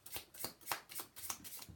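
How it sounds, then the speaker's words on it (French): Tarot cards shuffled by hand in a steady run of about six quick riffling bursts, close and fairly quiet, with no voices. "Voilà, on tire une carte de ce jeu-là."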